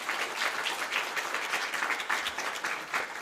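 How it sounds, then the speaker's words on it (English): Conference audience applauding a panel on artificial intelligence in fintech and insurtech, steady moderate clapping heard from a distance throughout. "If you can give a round of applause there"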